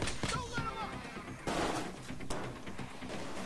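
Gunfire in the Xbox 360 heist game Payday 2, during the Big Oil Day 1 mission, comes as a few scattered, punchy shots amid busy in-game noise.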